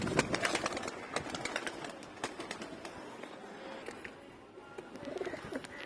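Khatan pigeons at a Murshidabad loft coo softly in repeated low calls, with faint chirps of other birds around them at moderate distance.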